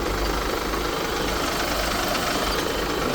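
A Mercedes Sprinter diesel engine, flagged with air flow and DPF faults, runs at a steady idle: a close, constant low rumble with broad mechanical noise and no voices.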